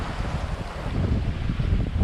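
A strong gust buffets a sailboat at sea, rumbling wind noise mixed with wave wash that swells slightly over a couple of seconds.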